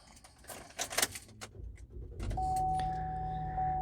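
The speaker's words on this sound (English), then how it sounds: "Let me go ahead and start this thing up." A 2014 Buick Enclave is started: faint keys jangle and interior clicks come first, then the engine catches and settles into a steady idle hum with a thin electronic tone, recorded from inside the car.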